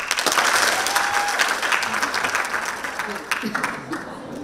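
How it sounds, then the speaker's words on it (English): An audience at a fifth-grade completion ceremony bursts into applause, a crowd of hands clapping and fading over a few seconds, with voices heard under it. "So each of you get one solid clap from all of us."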